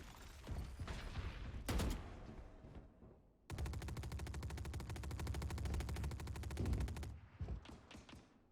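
Pistol gunfire in the video game Valorant: a few sharp separate shots, then a long, rapid run of rattling fire followed by more scattered bursts, fairly faint overall.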